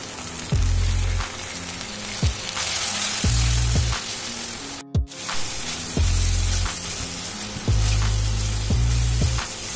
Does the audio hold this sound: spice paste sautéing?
yes